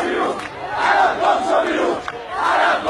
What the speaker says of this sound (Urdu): مظاہرین نے آیت اللہ علم الہدا کے خلاف نعرے لگاتے ہوئے